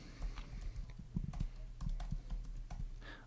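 Keys clatter in quick, uneven bursts as someone types a map description into web mapping software, close and fairly quiet over a low steady hum, with no talking.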